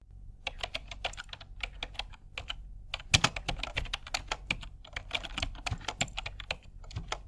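Rapid, uneven keystrokes on a computer keyboard as an email ID is typed, crisp close clicks in bursts with short pauses, one sharper key strike partway through, no voices.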